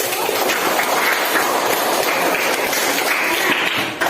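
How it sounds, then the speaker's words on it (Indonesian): Classroom group of teachers and students clapping for the first presentation group during an academic coaching session, a dense, steady wash of hand claps lasting throughout, fairly close and evenly loud. "beri tepuk tangan untuk kelompok 1"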